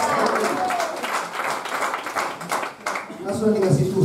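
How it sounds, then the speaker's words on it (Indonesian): A church congregation claps together in a sustained burst of applause, with voices calling out and talking over it toward the end. "Beri tepuk tangan."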